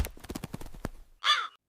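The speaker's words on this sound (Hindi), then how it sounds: "गंदे कौवे" A crow gives a single harsh caw, close and loud, following a short burst of rapid rhythmic non-speech sounds.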